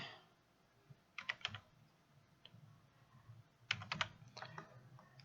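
Someone types a one-time passcode on a computer keyboard in two short bursts of quick, clicky keystrokes. The typing is close and quiet, with no talking.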